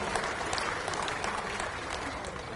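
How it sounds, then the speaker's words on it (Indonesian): Steady applause from a crowd at a Golkar party event in honour of Pak Agus, a dense, even clatter of clapping hands that holds at a constant level for the whole stretch. "Kita berikan aplaus kepada Pak Agus"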